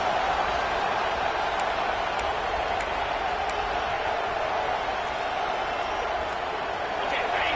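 Steady, dense stadium crowd roar from a College Football 26 game as the offense faces first and goal, a loud continuous wash of noise that holds level throughout with no clear breaks.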